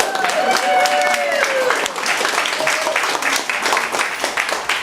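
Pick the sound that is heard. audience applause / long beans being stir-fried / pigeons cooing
audience applause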